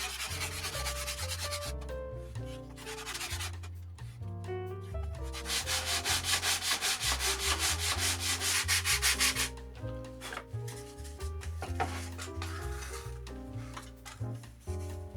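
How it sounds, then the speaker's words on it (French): Steady rasping strokes of sandpaper on a wooden RC plane aileron, louder and denser in the middle stretch, with background music playing throughout. "un bon coup de ponçage, et on aura notre aileron terminé"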